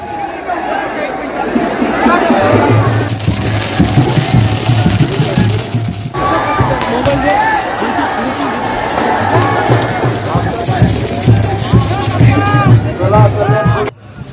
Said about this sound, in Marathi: रात्र झाली तरी भरपूर गर्दी आणि जल्लोष चालू होता